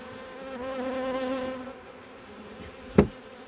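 Honey bees in a hive being checked during supersedure give off a close, droning buzz that rises and then fades over a couple of seconds. One sharp knock follows near the end.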